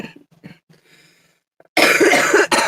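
A few soft breaths and faint murmurs, then a sudden burst of harsh, loud coughing up close that lasts about a second before cutting off.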